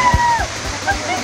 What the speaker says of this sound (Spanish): Una cascada de lluvia increíble ahí.